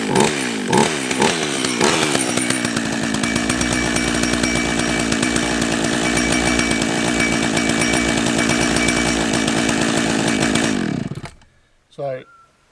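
On an off-grid homestead, a petrol chainsaw catches after a few sputtering pulls, then roars loudly and steadily at close range for about nine seconds before cutting out into near silence with a brief clunk.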